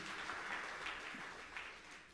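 Congregation applause during a church sermon, a steady, even wash of many hands clapping held at a faint, distant level for the whole stretch.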